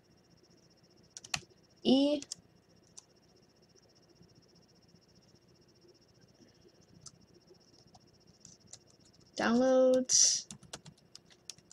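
Keys tapped on an Acer C7 Chromebook keyboard while entering a command, light scattered clicks heard faintly and close, with a person speaking briefly in two short bursts.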